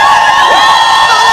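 A church congregation at a praise and worship service lets out loud, sustained cries and whoops of joy together, a dense crowd roar with no break across the moment.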